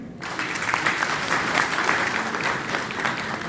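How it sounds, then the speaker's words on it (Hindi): Audience applause at a Lucknow gathering, a dense, steady wash of clapping from a crowd that starts abruptly and holds strong without a break. "एक बार तालियां हो जाए आपके लिए।"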